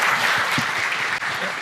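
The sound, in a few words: audience applause at a tech summit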